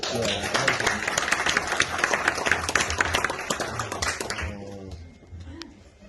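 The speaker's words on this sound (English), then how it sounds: "She's organised all the things in front of you, so a little round of applause" Wedding guests give Jenna a round of applause for organising the celebration, with dense, steady clapping that fades near the end as a voice begins speaking.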